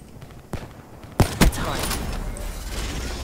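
Sniper rifle fire in the video game Black Ops 3: a soft shot early on, then two sharp, loud cracks close together in the middle, followed by a steady rumble of game ambience.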